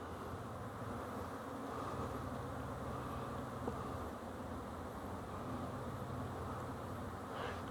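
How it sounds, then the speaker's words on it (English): Swarms of honey bees hum continuously around backyard bee sheds and benches, a dense, even buzzing that stays at a moderate level with no talking. "Bunches of bees."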